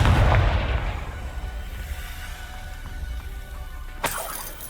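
Explosive Confringo spell blast in the Hogwarts Legacy game: a heavy, loud boom at the start decaying into a long rumbling tail, with a sharp crackling burst near the end.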